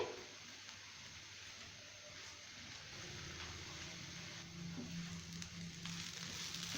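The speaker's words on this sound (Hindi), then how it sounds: "दूध डाल के अब अच्छी तरह से हम इसकी भुनाई करेंगे ताकि ये तमाम चीजें मिक्स हो जाएं" Chana dal halwa roasts with milk in a pan, giving a faint, steady sizzle and soft frying hiss with no talk.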